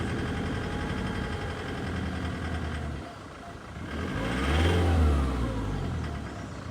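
A Ford car engine with a knocking fuel injector revs up smoothly, holding a steady drone, then dips and swells again with a low, slightly shuddering vibration underneath.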